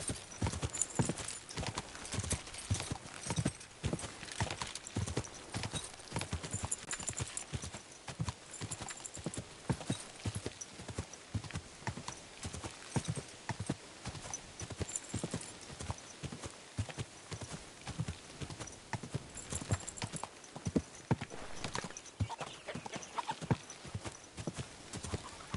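Horse hooves clip-clop steadily in Kingdom Come Deliverance 2, a continuous close rhythmic trot on hard ground lasting throughout with no talk.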